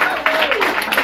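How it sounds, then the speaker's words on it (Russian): Audience applause rolls on as a steady, dense wash of clapping, close and fairly loud, with a voice speaking over it. "Еще раз аплодисменты"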